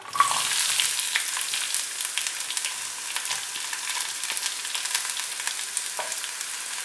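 Onion, green chilli, garlic and ginger sizzle steadily in hot oil in a kadai for masala puri, a continuous broad hiss with occasional soft stirring clicks, close and fairly quiet, no voices.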